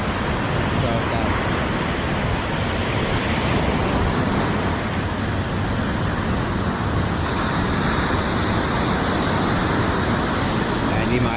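Rough sea waves crash and surge on a beach in a continuous loud roar, with wind buffeting the microphone throughout.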